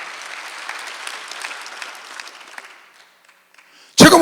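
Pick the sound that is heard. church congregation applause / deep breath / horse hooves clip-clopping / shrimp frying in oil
church congregation applause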